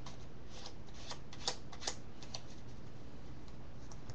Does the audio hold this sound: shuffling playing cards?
yes